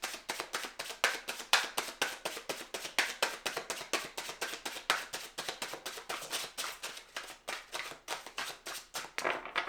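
Tarot cards riffled and shuffled by hand in a quiet room, a rapid regular train of soft snapping bursts, close and alone, repeating steadily.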